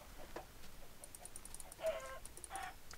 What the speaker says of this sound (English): Why is there so many chickens around here?